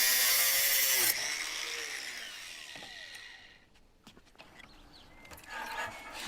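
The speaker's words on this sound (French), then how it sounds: "Raccourcir la tige à l'aide de la meuleuse." An angle grinder cuts through a metal rod supporting an electrode, a loud steady high-pitched whine for about a second, then winding down with faint scraping and clinks.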